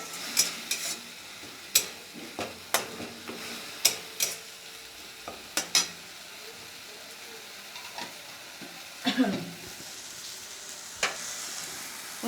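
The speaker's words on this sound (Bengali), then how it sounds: "এবার মশলাটাকে আমি ভালো করে আগে কষিয়ে নেব" Onion, garlic and ginger masala frying in a pan while being stirred, sharp spatula scrapes and clinks recurring every second or so over a soft sizzle, close by, with no talking.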